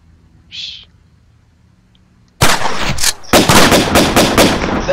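Shotgun fire in a first-person combat video game: a brief faint tone, a pause, then a loud abrupt blast followed by a rapid string of sharp, closely spaced shots that fill the rest of the moment.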